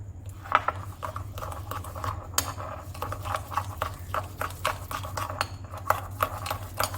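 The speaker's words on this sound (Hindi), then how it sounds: "मैं ज़रा इसको फेंट लूँ" A whisk rattles steadily against a bowl while brownie batter is beaten with sugar, producing quick repeated metallic clinks and scrapes over a low background hum.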